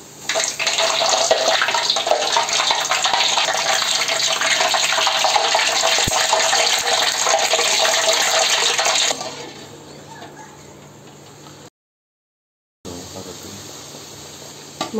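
Chola poori dough frying in hot oil, a loud steady sizzling hiss that fills the first nine seconds, then drops to a fainter bubbling after a brief gap.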